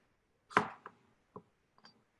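A knife chops summer vegetables for pasta on a cutting board: four separate, uneven chops, close and fairly quiet, the first the loudest, with no one speaking.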